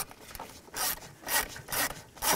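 A 7 mm socket ratchet loosens screws on a shift cable bracket of a 2000–06 Chevy Tahoe, making four rhythmic raspy clicking strokes close by and fairly quiet.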